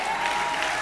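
A church congregation applauding the Lord during a Resurrection sermon, a dense, steady wash of clapping from many hands filling the whole brief moment.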